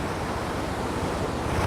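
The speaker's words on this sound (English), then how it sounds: "I'm next to the sea" Sea surf washes against the shore on a summer day, a loud, dense roar of breaking waves mixed with buffeting wind noise on the microphone, continuous throughout with no speech.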